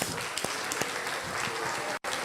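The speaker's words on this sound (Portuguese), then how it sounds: "uma salva de palmas para Jesus" A church congregation applauds for Jesus after a testimony of praise, dense steady clapping filling the space and cutting off abruptly near the end.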